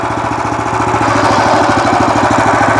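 Weima Deluxe WM1100FE-6 walk-behind tractor engine running close up, a loud, rapid, steady chugging putter with a constant rhythm throughout and no speech.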